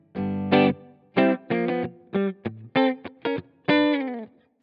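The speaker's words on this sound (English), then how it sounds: "Marshall G1 profile that sounds like this." Clean electric guitar through a Kemper amp using a Marshall profile with light reverb, several short plucked chords and single notes played in a halting, spaced rhythm, each ringing briefly with a soft reverb tail.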